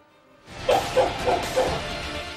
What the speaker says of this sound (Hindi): ये कुत्ते सिर्फ भौंकते नहीं, काट भी लेते हैं।